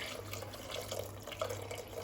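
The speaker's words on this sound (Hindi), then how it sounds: "अब इसमें हम पानी ऐड कर देंगे।" Water pours steadily into a pressure cooker holding dal and a spoonful of oil, a faint continuous trickling and splashing in a quiet home kitchen.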